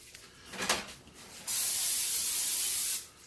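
A faint rustle, then a steady cooking spray hisses onto a cookie sheet for about a second and a half before cutting off.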